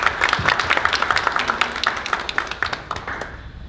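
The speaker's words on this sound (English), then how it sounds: "let's give a round of applause for our panelists." A round of applause for the panelists of a session on cradle-to-career education, with sparse, uneven clapping from a modest audience that thins toward the end.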